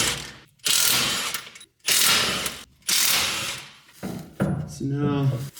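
A ratchet wrench loosens 13 mm sway bar bolts on a Mk7 GTI, giving four loud, close bursts of rapid clicking with short gaps, followed by a brief clatter of handling at the end.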